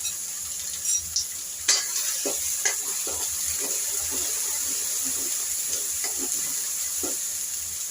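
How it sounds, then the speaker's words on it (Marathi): Ground masala paste with curry leaves sautéing in hot oil in a pan, a steady close sizzle with repeated scraping stirs and small clinks throughout. "आता याला छान आपल्याला तेलावर परतून घ्यायचं आहे"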